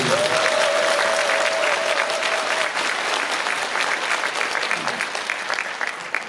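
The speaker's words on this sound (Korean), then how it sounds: "박수 한번" Audience applause at a citizens' festival celebrating a railway construction project in Pocheon, a loud sustained crowd clapping throughout, with a brief voice near the start.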